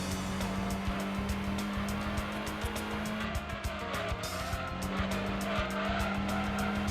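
A race car in Gran Turismo 2 brakes down to second gear and corners, a steady droning engine note with tire squeal and skidding throughout, close and continuous.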